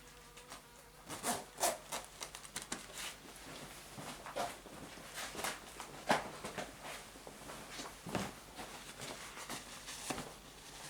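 Honey bees around a hive in an apiary, buzzing in scattered bursts as individual insects pass close to the microphone and fade, over a faint steady background, with no talking.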